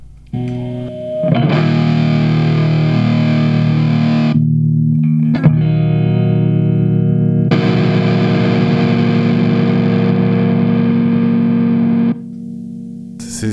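An electric guitar through a BOSS OS-2 OverDrive/Distortion pedal rings out heavily distorted chords in two long sustained bursts, separated by a short pause and a sharp click, loud and saturated.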